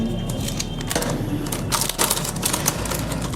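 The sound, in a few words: cutting open a model car box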